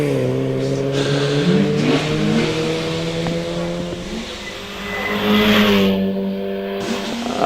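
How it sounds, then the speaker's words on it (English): A Mazda MX-5 race car accelerates up the Prescott hillclimb course, its engine revving hard through several gear changes with rising and falling pitch, loud and close, with faint background noise. "Under the bridge on up towards the Tories goes Ian Winnie in that Mazda MX-5"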